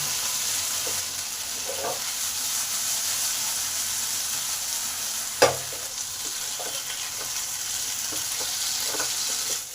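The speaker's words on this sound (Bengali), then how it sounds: "এবার এটাকে ভালো করে মিডিয়াম হিটে ভেজে নেব কচুটা হাফ সেদ্ধ হয়েছে" Half-boiled taro (kochu) fries over medium heat in a pan, giving a steady close sizzle with occasional spatula scrapes and one sharp knock midway, no talking.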